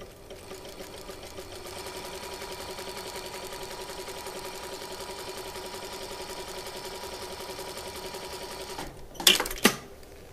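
Sewing machine stitching a tight zigzag at a steady, fast mechanical rhythm, loud and close, running continuously before stopping with a couple of sharp clunks near the end.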